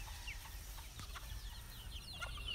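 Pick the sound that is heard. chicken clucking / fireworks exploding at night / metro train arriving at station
chicken clucking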